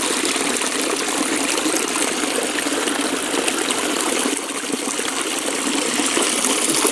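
Water rushes steadily over solid rock in a gully at Cayuga Lake's Great Gully, a loud, continuous broadband gush without pause, heard close up.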